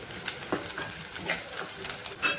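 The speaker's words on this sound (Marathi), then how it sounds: "कांदा तेलात व्यवस्थित छान फ्राय करायचा." Finely chopped onion frying in oil in a pan, a soft continuous sizzle with occasional stirring scrapes and brief crackles, close and moderate in level.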